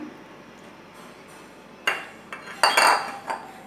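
A small metal spoon clinks and scrapes against a juice glass while scooping watermelon onto it, a few bright taps and rattles after a quiet start, close and without speech.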